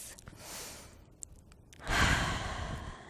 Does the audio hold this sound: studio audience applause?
no